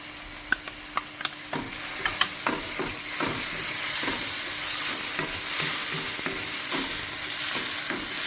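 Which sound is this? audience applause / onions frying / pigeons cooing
onions frying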